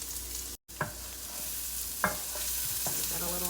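Onion sizzling in a hot pan: a steady broadband frying hiss with a brief dropout early on, and a few soft stirring scrapes and clicks along the way, nearby and with no talk.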